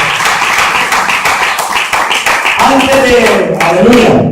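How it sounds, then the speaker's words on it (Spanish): A church congregation claps loudly for God, sharp rhythmic hand claps close by mixed with a voice speaking over them, the clapping staying dense throughout. "Fuerte el aplauso para Dios"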